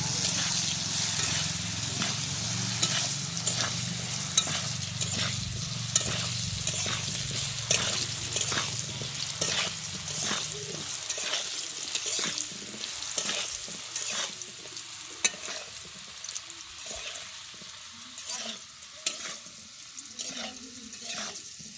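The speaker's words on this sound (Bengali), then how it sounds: "আমি আলুটাকে ভালোভাবে ভেজে নেব" Potatoes fry in hot oil with salt and turmeric, giving a steady loud sizzle that eases partway through, broken by regular scraping and stirring strokes against the pan.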